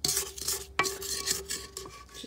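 A spatula scrapes around the sides of a mixing bowl of cookie dough, giving soft repeated scuffs and a few sharper knocks against the bowl, close and fairly quiet with no talking.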